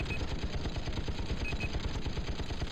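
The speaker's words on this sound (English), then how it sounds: "I think the chain gun is actually stronger than the minigun" Chain gun firing nonstop in the video game Battlezone, a dense rapid stream of loud, closely spaced shots holding steady at the same pace from start to end with no pauses.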